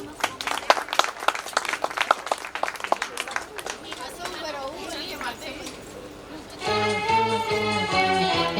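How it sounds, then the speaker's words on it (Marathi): Guests at a sangeet clap for the ladies coming onto the dance floor: a run of sharp, uneven claps at first, which thin out and give way to loud music. "सो उनके लिए जरा एक बार जोरदार तालियां बनती है"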